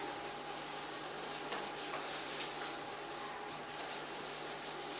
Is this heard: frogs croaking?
no